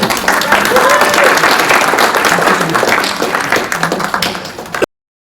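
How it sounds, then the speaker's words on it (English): Audience applause following a speech, a dense, loud wash of many hands clapping that holds steady for nearly five seconds before cutting off abruptly. "Round of applause."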